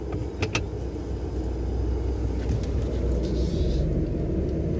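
Inside a Ford Raptor pickup truck pulling onto the road, a steady, close, low engine and road rumble continues throughout with no talking.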